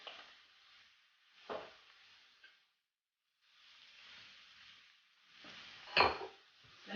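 Onions and garlic frying in a pan for fried rice, a soft steady sizzle broken by a few sharp scrapes and clanks as the pan is stirred, fairly quiet and close.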